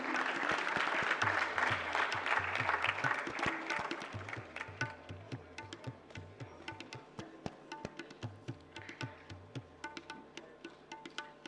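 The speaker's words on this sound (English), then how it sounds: "give a huge round of applause to him" Conference audience at a national intellectual property event applauds as a guest comes on stage; broad loud clapping fades into scattered claps over a low rhythmic musical background.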